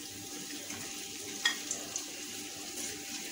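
Onions and capsicum hitting a hot pan give a soft, steady sizzle, quiet and close, dotted with a few faint clicks as the vegetables are stirred.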